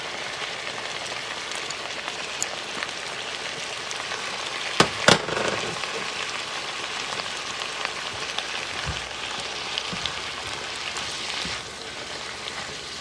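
Onion, scallion and thyme fry in a pan with a soft, steady crackling hiss, broken by a couple of brief louder clatters midway.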